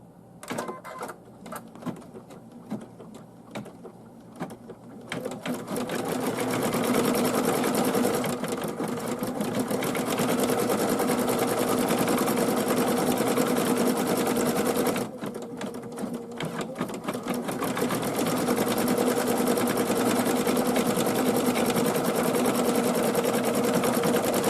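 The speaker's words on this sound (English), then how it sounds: "load the hoop on the machine, and we will go ahead and start sewing" An embroidery sewing machine stitches a quilt block design from a loaded hoop, with quiet handling and faint clicks for about five seconds before a loud, rapid, even needle chatter starts, briefly pauses near fifteen seconds, then resumes.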